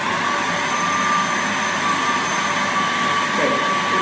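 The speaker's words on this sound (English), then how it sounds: "So just turn the machine on." A food processor blends salsa verde into a paste with olive oil, giving a steady, loud motorized whirr and churn that runs unbroken throughout.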